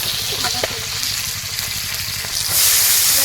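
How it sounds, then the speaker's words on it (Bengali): Chili and onion fry in oil in a wok, a close, even sizzle with light stirring clicks early on that swells into a louder hiss near the end. "কড়াইতে দিয়ে দিল তেল পরিমাণ মতো তারপর দিয়ে দিল লঙ্কা পেঁয়াজ"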